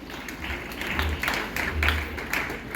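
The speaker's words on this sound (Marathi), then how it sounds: "मॅडम करता जोरदार टाळ्या झाल्या पाहिजे" An audience at a high school centenary celebration applauds for the headmistress, moderately loud clapping in uneven swells that rise and fade across the stretch.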